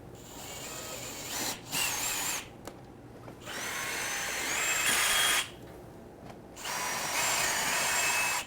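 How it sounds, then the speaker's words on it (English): A power drill fitted with a 1/4 inch bit drills holes in the skid plate of a 2018 Can-Am Spyder RT. It runs in several loud, high-pitched bursts separated by short pauses. "you're going to go ahead and drill your holes"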